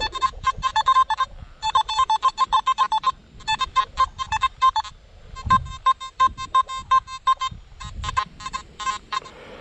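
A metal detector sweeping a bottle cap and 10-grosz coins gives rapid repeated electronic beeps in several bursts of pulsing tones, loud and close, with brief pauses and faint low scuffing between.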